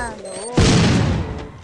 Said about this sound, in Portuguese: Ó a granada!